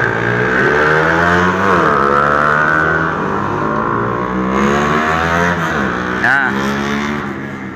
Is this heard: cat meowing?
no